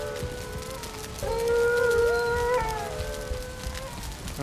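Tamed wolves in the Valheim video game let out a long rising and falling howl, with overlapping wavering tones that swell in the middle and fade, heard over a low background rumble.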